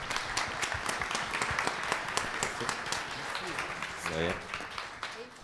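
An audience at a conference plenary session applauds the speakers with a steady, dense patter of clapping that lasts throughout, with some voices mixed in.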